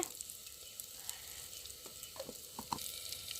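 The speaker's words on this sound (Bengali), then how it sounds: "এই যে জিরা ফোড়ন দিয়ে নিচ্ছে" Cumin seeds temper in hot oil in a village kitchen, producing a faint, steady crackling sizzle with a few small pops and a light clink toward the end.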